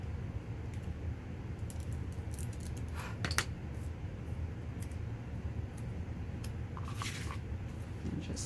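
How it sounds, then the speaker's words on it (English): Scissors snip through a strip of scotch tape to cut it in half, a few close crisp cuts standing out over a steady low background hiss. "my scotch tape is too wide, so I'm going to trim it in half."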